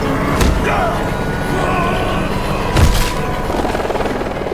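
A helicopter's steady rotor drone fills the scene, with a couple of sharp thumps cutting through and a voice speaking over the noise.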